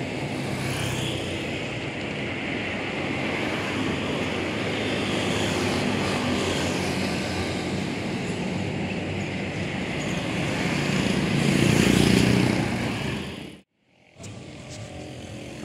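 A camera drone hovers and descends over a collapsed scaffolding site, giving a steady, close whirring buzz that swells louder near the end. The sound cuts out briefly and then resumes.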